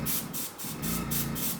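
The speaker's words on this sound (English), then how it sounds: "I am spraying over a layer of gunked adhesive" An airbrush sprays over a layer of gunked adhesive, a steady close hiss that pulses slightly in strength with no voices.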